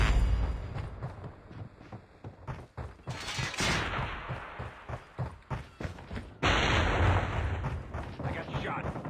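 Gunfire and explosions from the mobile shooter Call of Duty Mobile come as rapid bursts of close shots and heavy booms, with game voices speaking over the action.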